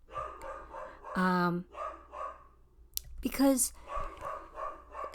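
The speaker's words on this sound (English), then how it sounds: "Sorry about this dog." A dog barks a couple of times, with short, sharp yelps rising over a person speaking, fairly close by.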